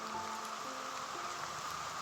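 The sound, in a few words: rain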